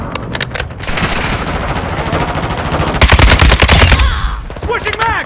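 AK-47 rifle fire in Call of Duty: Modern Warfare II, rapid loud automatic bursts, densest near the three-second mark, over a busy battlefield backdrop, with a brief tail of clatter at the end.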